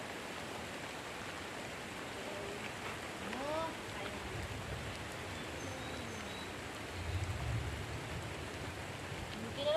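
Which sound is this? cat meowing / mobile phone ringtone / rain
rain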